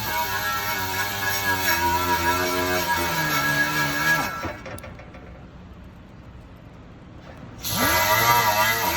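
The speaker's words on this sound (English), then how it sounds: "what I use for that to get the silicone out is a wire wheel, like a fine wire wheel" A fine wire wheel on a power tool spinning against stamped metal engine parts of a Jeep Wrangler 3.6L, clearing out old silicone. The high, steady whine sounds close and loud, drops out for a few seconds, then spins back up.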